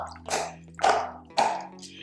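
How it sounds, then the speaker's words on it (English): Water squirts out of a rubber pot holder used for cleaning makeup brushes, three short wet squishing bursts close to the microphone, evenly spaced about half a second apart. "And all the water just pops right on out."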